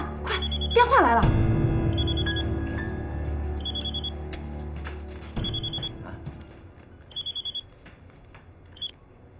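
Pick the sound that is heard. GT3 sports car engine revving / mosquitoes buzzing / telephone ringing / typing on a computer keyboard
telephone ringing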